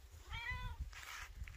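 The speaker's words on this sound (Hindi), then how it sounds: "पहाड़ी बिल्ली आया" A mountain cat in the hills around Haripurdhar gives a short, faint meow, then a second brief call, heard alone over low background rumble.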